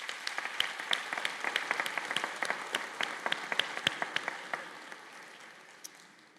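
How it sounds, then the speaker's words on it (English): Applause from the audience at a community college nurses' pinning and candle lighting ceremony: many hands clapping steadily with a few sharper claps standing out, then thinning and fading toward the end. "I think that deserves an applause."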